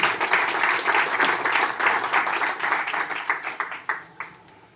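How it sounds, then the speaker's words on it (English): An audience at the Africa Cocoa Finance & Investment Forum in London gives a dense round of applause after a presentation, loud at first and then thinning into scattered claps as it dies away. "The applause already said everything."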